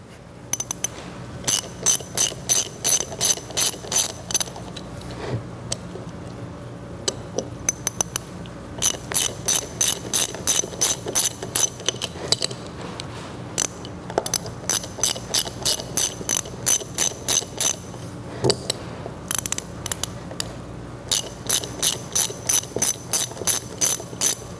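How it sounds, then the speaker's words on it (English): A ratchet wrench removes four bolts from a boat's propeller faceplate, giving repeated runs of rapid, crisp clicking in close bursts with short pauses between them. "put it on our ratchet, and there's 4 bolts on the top of this faceplate. We're gonna remove those 4 bolts."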